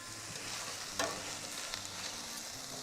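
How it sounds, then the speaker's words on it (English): Onions sizzle steadily in a stainless steel skillet, a continuous close hiss of frying with a few sharper crackles and stirring scrapes, no talk over it. "can you hear them sizzle?"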